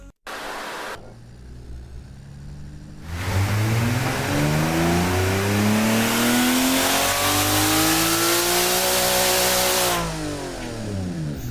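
A simulated 1100 hp car engine in the Automation game revs up in a single loud pull, rising steadily in pitch over several seconds before falling back off, heard alone with no talk.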